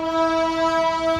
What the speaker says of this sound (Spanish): me desconcentra la bocina esa